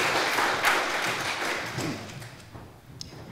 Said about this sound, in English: Please give a big round of applause for Marc and Cora.